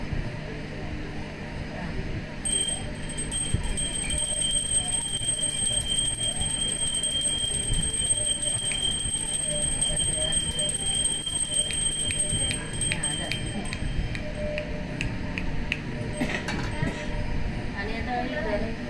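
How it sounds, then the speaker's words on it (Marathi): During a puja aarti at a baby's pachvi ceremony, a hand bell rings continuously with rapid, bright tinkling from start to finish while people talk nearby. "एका हाताने घंटी वाजव."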